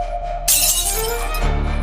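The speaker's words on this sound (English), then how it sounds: "the glass shattered again" Glass shatters with a sudden bright crash, followed by tinkling shards and a second smaller burst near the end, loud and close, with a low hum underneath and no speech.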